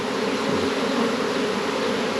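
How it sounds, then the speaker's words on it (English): A ground swarm of honeybees fans steadily near the hive entrance, a dense, continuous close buzzing hum with no pauses and no talking. "Okay, they're all fanning right here."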